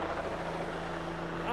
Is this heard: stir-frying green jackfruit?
no